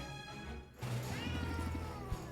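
A cat meows in the Potionomics video game, giving a few short, quiet tonal meows over soft background game sounds.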